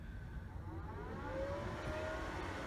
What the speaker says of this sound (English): Hear that fan, yep.